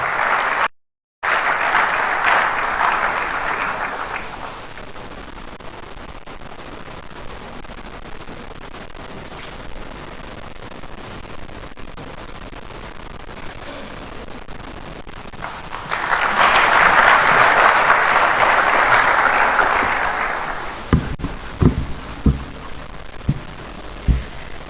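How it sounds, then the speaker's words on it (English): Audience applause for host MP Dr. Zanetor Rawlings at an event in Accra, Ghana, with a steady broadband wash of clapping at the start, a quieter stretch, then a louder second burst swelling near the end before a few thuds. "Please, a round of applause for Dr."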